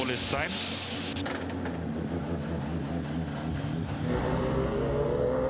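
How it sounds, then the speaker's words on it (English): A DTM race car passes beneath a trackside camera during qualifying at the Nürburgring, its high engine note sweeping loudly past under continuous commentary. "So there the Sheldon van der Linde car just passing underneath our camera position"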